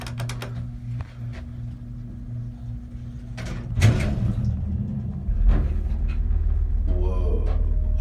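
A heavy mechanical hydraulic elevator door, an A.B.C. unit in Highland Park, Illinois, slides and clunks over a steady low motor hum, with a couple of thuds and rattles as it moves.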